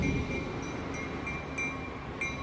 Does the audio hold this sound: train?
yes